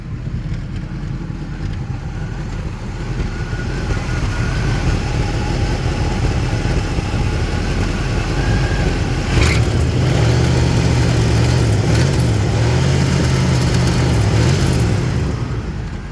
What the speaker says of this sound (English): crank her up for you and let you hear. She does have an exhaust leak.